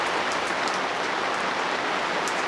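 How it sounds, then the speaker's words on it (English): Steady rain falls on a surface outdoors in British weather while a Fiat Panda 4x4 Sisley is being worked on, a dense continuous hiss with scattered brighter drop ticks and no voices. "Rain, go away, come back another day,"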